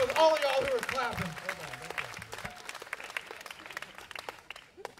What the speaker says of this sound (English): Everybody give that banjo player a hand